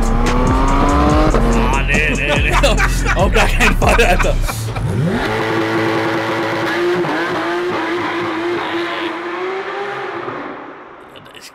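A Porsche GT3 engine with a modified, non-original exhaust roars and revs loudly with a raspy, aggressive note, tires squealing briefly, while a voice exclaims over it.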